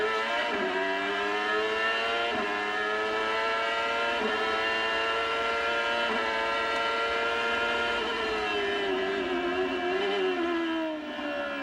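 Onboard a CART race car, the engine screams at a high pitch as the driver pulls up through the gears, each shift a quick dip before the note climbs again, steady wind rushing underneath, no talk.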